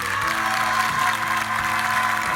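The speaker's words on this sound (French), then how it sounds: "Applaudissements pour Julie, mesdames, messieurs." Audience applause at a televised talent show, a continuous wash of clapping heard under a steady musical backing with sustained tones.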